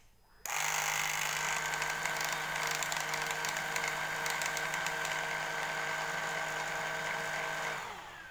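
A Deerma VC25 vacuum cleaner switched on, its motor and gears whirring with a steady mechanical whine and buzzing rattle that holds for about seven seconds before winding down.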